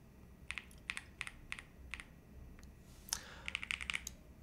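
Keypresses on a computer keyboard fitted with LED lighting and a front touch panel, pressed as a function-key combination: a few spaced, crisp clicks, then a denser cluster of quick taps, close and fairly quiet with no voice.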